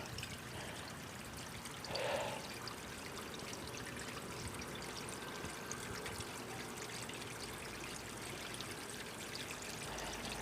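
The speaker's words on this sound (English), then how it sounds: "Soaked myself, by the way, turning that hose on." A garden hose runs steadily into an inflatable pool, a continuous soft rushing and trickling of water that stays even throughout, with one brief splashy swell early on.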